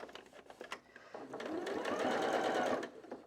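A sewing machine stitching close to the edge of a custom-size Christmas tree skirt, running in short rattling bursts that build into a steady, faster whir before stopping, close and clear with no talk.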